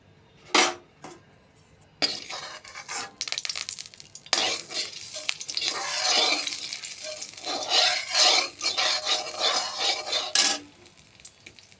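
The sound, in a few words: oil heating in a pan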